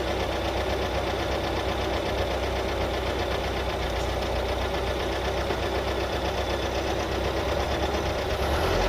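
A Ford Cortina MK3 Estate engine idles at very low revs, a close, steady rhythmic chugging with a fine ticking texture running unbroken throughout.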